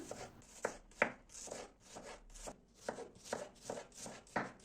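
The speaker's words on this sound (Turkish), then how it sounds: "Soğanları mümkün olduğu kadar ince doğramaya özen gösterelim." A knife chops onions finely and steadily on a board, about ten crisp, evenly spaced strikes with no talking.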